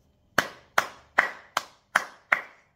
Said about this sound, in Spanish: Un aplauso para Deco